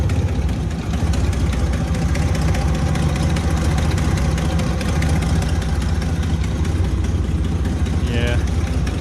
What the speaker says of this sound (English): It is somewhat idling now. It's a little louder than it used to be, so I think we might have an exhaust issue going on.